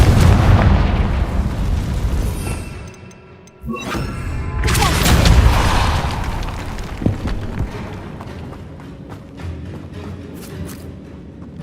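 A Confringo blasting spell goes off in Hogwarts Legacy, two heavy booming explosions with a roaring burst around the fourth second, the rumble and crackling debris tailing off over several seconds.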